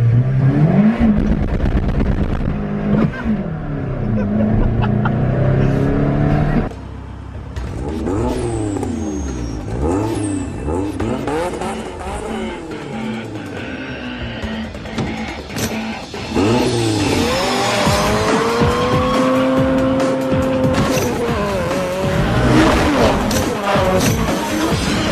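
A nitrous-fed Toyota Starlet makes a first-gear takeoff, its engine revving hard and climbing in pitch through sustained acceleration, loud and close, with rising and falling tones as it pulls away.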